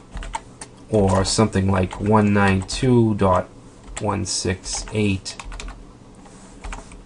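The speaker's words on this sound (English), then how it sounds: "let me just type it in here" Rapid taps on a computer keyboard come through as an IP address is typed, brief clicks that are partly buried under someone speaking close to the mic.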